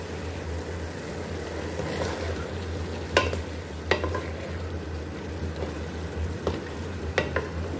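Kachnar and keema being stir-fried with spices make a quiet, continuous sizzle under a low steady hum, broken by a handful of sharp scraping stirs spread across the clip, with no talking.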